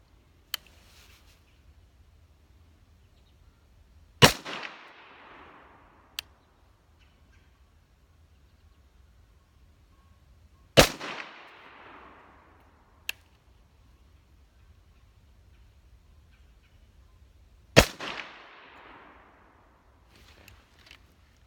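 Three sharp, loud FNX 45 Tactical pistol shots ring out several seconds apart at an outdoor target range, each a crisp crack followed by a short echoing tail, with a few faint clicks between.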